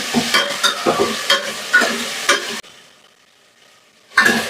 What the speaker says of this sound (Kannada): ಈಗ ಸ್ವಲ್ಪ ಎಣ್ಣೆನಲ್ಲಿ ಒಂದು ಅರ್ಧದಿಂದ 1 ನಿಮಿಷ ಫ್ರೈ ಮಾಡ್ಕೊಳ್ಳೋಣ.